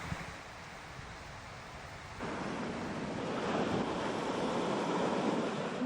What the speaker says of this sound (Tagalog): Mataas pa rin kasi ang mga alon dahil sa masamang panahon.